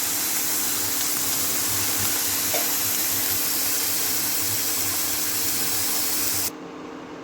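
Vegetables with carrots fry in a pan for fried rice, a steady, close sizzling hiss that holds evenly, then cuts off abruptly near the end.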